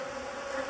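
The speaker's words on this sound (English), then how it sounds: "see the way the bees are flying around me" A dense swarm of Africanized killer bees buzzes around a beekeeper at a hive, a steady loud drone of many wings close to the microphone.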